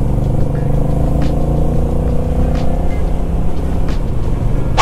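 A Honda Rebel 1100 cc automatic motorcycle engine rumbles steadily while riding, a low, even and fairly subdued drone that stays loud and close throughout with little change in pitch.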